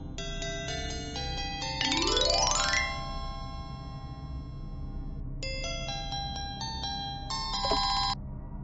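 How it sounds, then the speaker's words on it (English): Electronic phone ringtone in a dress-up video game, clear synthetic chiming melodies with a rising sweep, two bursts separated by a brief pause over faint background hum. "the game is interrupted by a phone call"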